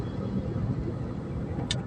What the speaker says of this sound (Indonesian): Knalpot Brong.